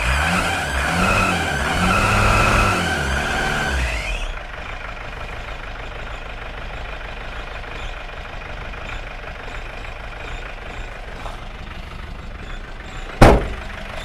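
A Peugeot 404 pickup engine revs up in a loud, rising then falling rasp for about four seconds before dropping to a low, steady idle rumble, with one sharp knock near the end.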